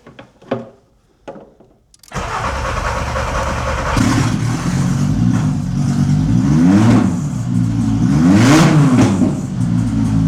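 A swapped 07k five-cylinder engine in a MK2 Golf GTI cranks with a couple of short bursts, then catches and starts, settling into a loud, close idle broken by several rising and falling revs.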